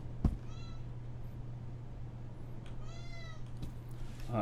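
A cat gives two or three short meows, fairly close, over a low steady hum and quiet room noise.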